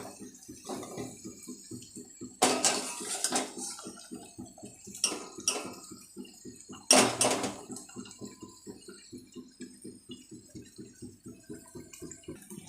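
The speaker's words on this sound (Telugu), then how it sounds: "ఆపేస్తున్నాను ఇప్పుడు వడగట్టుకోవాలి ఇప్పుడు వడగట్టుకోవాలి" Cooked pasta is strained in a home kitchen: an even rapid patter of draining water runs throughout, broken by a few louder clanks of pots and dishes.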